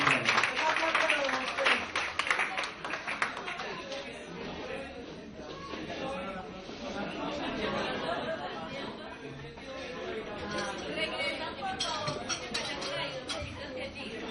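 Conference audience clapping and chattering together in a hall, a dense, steady wash of applause blended with crowd babble that continues throughout.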